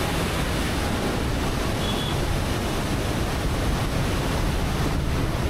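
Fast-flowing river water rushes past in a steady, loud, unbroken roar, mixed with wind buffeting the microphone, with no voices.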